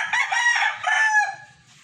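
A gamefarm broodstag rooster crows once, loud and close, a single drawn-out call that trails off, with faint background noise.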